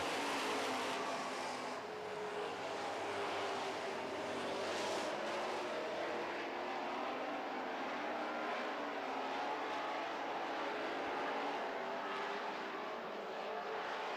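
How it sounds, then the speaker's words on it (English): Super trucks race around an oval track, engines roaring loud and steady from start to finish, with the pitch shifting as the pack surges past. "Cord Allard, your leader, but Glenn Manning is reeling him in the 55 truck"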